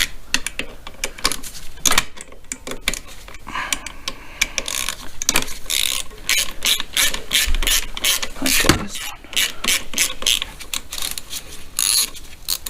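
A hand ratchet clicks rapidly and continuously as clutch cover bolts are loosened on a 2008 Yamaha Raptor 250, the dense clicking and metallic ticks close and loud with no talk over them.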